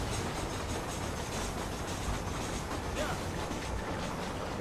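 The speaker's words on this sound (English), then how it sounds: "Wait for the train." A train rumbles past steadily in Red Dead Redemption, a dense continuous roar with faint rhythmic clatter, close and constant throughout with game sounds mixed in.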